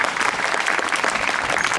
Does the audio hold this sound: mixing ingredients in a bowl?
no